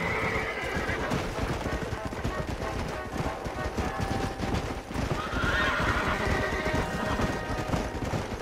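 Horses in a video game whinny loudly near the start and again later, with steady hoof clip-clop and game ambience running under the whole scene.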